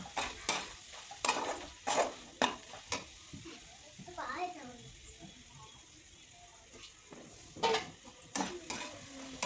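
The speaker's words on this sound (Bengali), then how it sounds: "তো যার কারণে আমি হালকা আঁচেই ভাজছি" Coconut filling for pulipithe fries on low heat, a soft sizzle broken by repeated scraping and stirring strokes of a spatula against the pan, close and intermittent.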